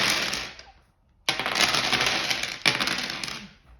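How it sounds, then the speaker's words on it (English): Dice rolled for a board game clatter and tumble on a tabletop in two close, sharp bursts after a brief pause, each rattle trailing off as the dice settle. "The next thing we do to set up is we roll all of the dice."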